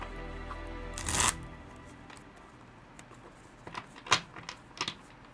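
Close, crisp riffle of Oracle of the Radiant Sun tarot cards being shuffled in one quick burst, followed by softer intermittent taps and card handling in a quiet room.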